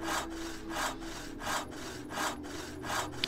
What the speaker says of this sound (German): einen Balken craften, basteln, sägen.